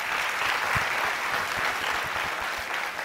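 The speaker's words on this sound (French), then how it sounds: "Je vous demande d'applaudir Madame" An audience applauds at a school ceremony in Guinea, a steady, even wash of clapping that holds through the whole stretch, with occasional low thumps beneath it.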